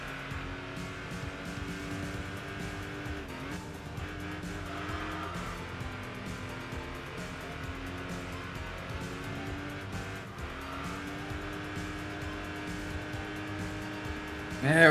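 Race car engine sound from the Enthusia Professional Racing video game, a steady loud roar with rising and falling revs, tire squeal and brief shift dips, continuous throughout with no talk.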